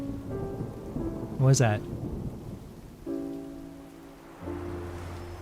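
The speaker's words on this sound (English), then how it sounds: "Come on, let's hurry before it rains harder!" Rain and thunder in the Genshin Impact video game, a steady wash of rainfall with low rumbles, under game music and voices, with a person speaking briefly.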